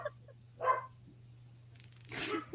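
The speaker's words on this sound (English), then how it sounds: "My dogs are barking at Gail's doorbell." Pet dogs at home barking at a doorbell, two short muffled bursts of barking heard from a distance, separated by a quiet stretch with a faint steady hum.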